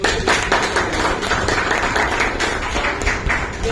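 An audience at a de-addiction and diabetes awareness camp in Nashik breaks into loud, dense applause that holds steady for a few seconds.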